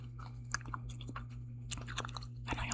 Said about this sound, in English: I finally got some gum, so I'm going to put that in my mouth right now.